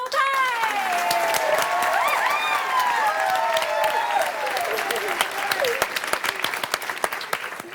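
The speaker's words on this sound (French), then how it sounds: "une bonne main d'applaudissements pour nos 3 volontaires" Dense, loud audience applause for three volunteers joining an Italian illusionist and mentalist on stage, steady clapping throughout with voices and cheers mixed in.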